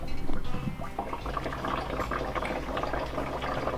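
Water gurgles and bubbles steadily as it drains through a loosened drain plug in a van sink, a continuous close-up churning with a slightly louder start.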